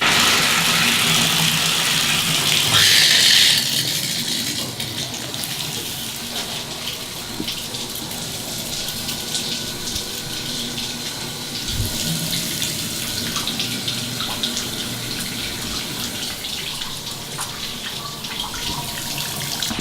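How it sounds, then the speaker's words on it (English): Water running from a home's shower, a steady hissing spray that is louder and brighter at first and then settles into an even, continuous rush without any talking. "This is how a shower works."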